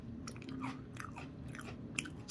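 Close mouth sounds of someone chewing oatmeal cream pie cereal with milk, soft wet crunching and smacking in a short irregular run, no talk.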